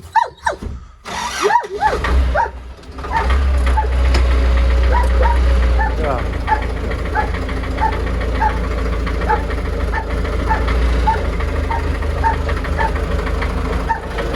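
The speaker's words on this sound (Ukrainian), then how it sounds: "Заведу і подивимося, скільки обертів крутить." Engine starting with a brief cranking stutter, then settling into a steady loud running drone with a regular knocking pulse.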